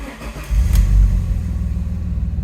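Alfa Romeo with a Q-system gearbox and 117,000 miles, its engine cranking briefly and then catching into a loud, low idle that settles into a steady rumble, close by.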